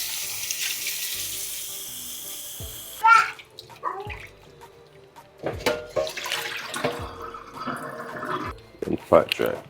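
Running tap water splashes over raw chicken in a kitchen sink, a steady close stream broken by sloshing bursts and handling noises, with a voice talking over it.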